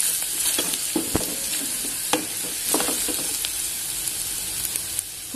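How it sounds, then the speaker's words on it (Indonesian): Garlic sizzling and being stirred in a frying pan during cooking for a creamy mushroom soup, with steady frying hiss and several scraping strokes throughout. "kita masukkan bawang putih, lalu diaduk kembali"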